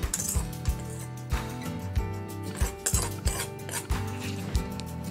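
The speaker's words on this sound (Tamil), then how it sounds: "நம்ம இப்போ எண்ணெயில் வறுத்த வேர்க்கடல இதில் போட்டுக்கலாம்." Oil-roasted peanuts tumble into lemon rice in a pan, giving a series of light clinks and scattered taps against the metal with stirring scrapes, close and moderately loud, no talk.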